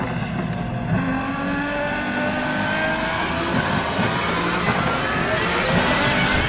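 Layered car engine mix from Need for Speed The Run, with sputters and turbos: a dense, loud, continuous engine roar with a throaty low rumble and a rising rush toward the end.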